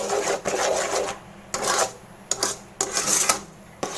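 Ashoka halwa with sugar is stirred in a pan, making rhythmic rasping scrapes in quick repeated strokes, close and moderately loud with short pauses between them.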